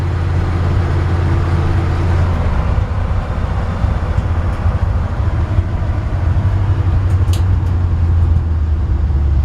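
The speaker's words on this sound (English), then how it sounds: "It's got a nice sounding exhaust. Sound like an old truck. Nice V8." 1964 Chevrolet C-10 pickup's V8 exhaust rumbling steadily while driving, a low continuous drone mixed with road noise and no speech.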